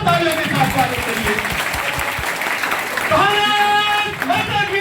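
A crowd at a public function gives loud welcoming applause, a dense, sustained clatter of clapping with a voice speaking through it and tonal music or feedback rising partway through.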